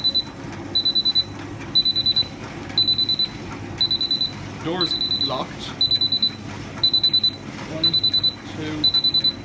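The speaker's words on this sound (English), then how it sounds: "And the buzzer's ringing." A Miele T8722 tumble dryer's buzzer beeps in a steady repeating pattern of short bursts, each a quick cluster of high tones, while a person counts and talks over it and the machine keeps running with a fault.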